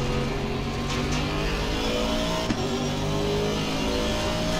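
Aston Martin Vantage V8 GT race car in the Assetto Corsa Competizione racing game, a steady low engine rumble droning continuously at moderate level with no talk over it.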